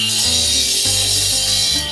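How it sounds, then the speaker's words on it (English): Concrete retaining wall blocks being notched with a power saw, a loud continuous high-pitched grinding whine whose tone shifts in steps as the blade bites into the block. "We have to do cutouts on these bricks for engineering"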